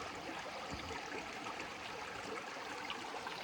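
Creek water flowing over rocks in West Virginia, a steady, close rushing and babbling wash that stays even and moderately quiet throughout, with no voices.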